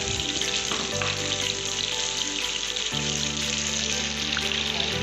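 Chopped onion and chicken powder fry in a hot pan, making a steady, close sizzle that holds at even loudness throughout, with no talking.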